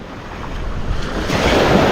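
Ocean waves crashing on a shore, a steady broadband rush with wind noise that swells louder toward the end as a wave breaks.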